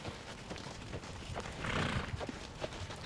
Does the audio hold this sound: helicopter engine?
no